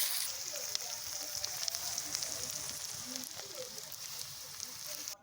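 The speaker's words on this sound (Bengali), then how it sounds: "পেঁয়াজটা একটু ভেজে নিতে হবে" Onions frying in a pan for a potol (pointed gourd) curry, a steady soft sizzle with faint crackles running throughout, close and fairly quiet, no talk.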